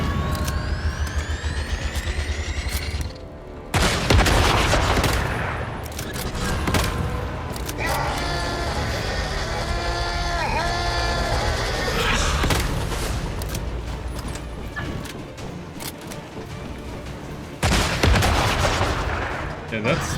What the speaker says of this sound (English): that's still the boss shooting at us